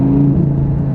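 A supercar's engine sounds through a Quicksilver exhaust back box as a loud, close, steady droning rumble with a deep throaty tone, holding for about a second.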